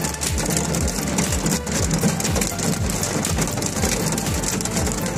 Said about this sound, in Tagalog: Ang lakas po ng ulan dito sa Riyadh.